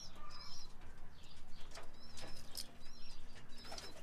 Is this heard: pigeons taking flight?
yes